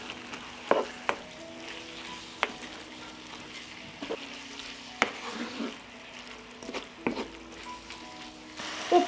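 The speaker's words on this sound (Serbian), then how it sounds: "I sad ću sve ovo promešati." Meat frying with sweet red paprika, pepper and dry seasoning hisses steadily in a pan while a spoon scrapes and clinks through it in irregular strokes, close up and with no talk.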